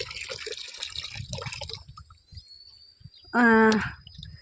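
Water splashes and trickles onto potted plants in a rooftop garden, a brief pouring burst after quieter dripping and rustling, fairly close and clear.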